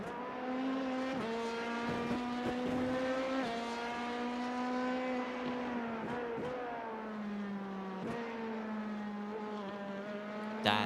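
An LMP2 endurance race car at Spa during an ARL Endurance round, a loud, sustained high-revving engine drone with brief dips where gears shift, running continuously without any voices.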